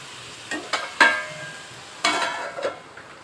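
Cucumber pieces cooking in oil in a pan, faint sizzling broken by a few sharp stirring scrapes and clinks, with no voices.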